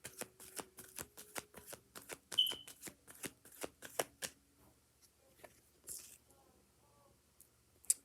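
Tarot cards shuffled by hand in a steady run of crisp riffling flicks, close and distinct, then slowing into softer, scattered slides and taps.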